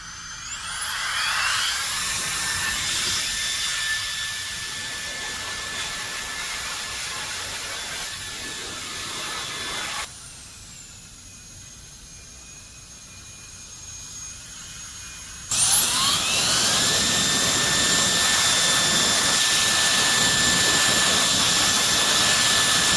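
A cordless electric air duster blows a loud, steady jet of air, its pitch shifting as it is aimed at different surfaces, then drops briefly quieter before surging back to full strength.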